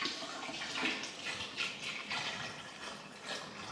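Homemade Chinese rice wine, mijiu, pours steadily into a large container of nearly 20 liters, a continuous splashing gush heard close up with no talking.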